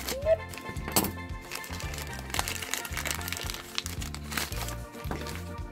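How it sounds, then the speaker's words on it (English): A crinkly plastic blind bag toy packet from a Chubby Puppies series being handled and opened, with continuous rustling and crackling close by over a background of music. "open it up and get out our blind bag."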